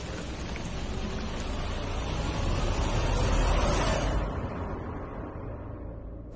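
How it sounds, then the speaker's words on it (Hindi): Steady, dense rain hisses throughout, swelling slightly midway before its brighter edge fades, leaving a softer wash. "काश ये बारिश बंद हो जाए"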